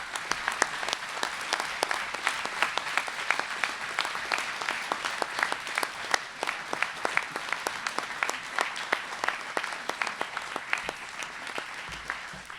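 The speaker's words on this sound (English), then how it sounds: "I hope all of you will join me in giving them a round of applause" A graduation audience applauds the faculty with sustained, even clapping throughout, individual sharp claps standing out against a continuous crowd wash, steady in level for the whole stretch.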